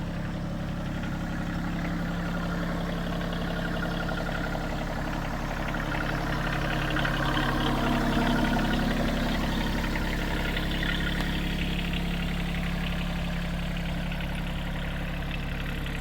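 Bad Boy tractor engine idling while logs are being moved, a steady low rumbling drone at moderate level that swells slightly midway, with no talk.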